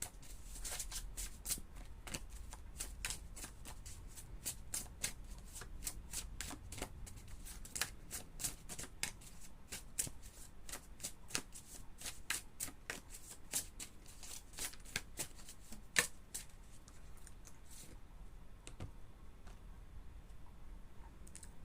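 Tarot cards shuffled by hand in quick riffling bursts and soft clicks, close but quiet, continuing for a long stretch before easing off near the end, with no talking.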